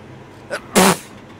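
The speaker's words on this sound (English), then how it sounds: "Let me get through sneezing." A man gives a short intake followed by one loud, close sneeze lasting under a quarter second, with nothing else around it.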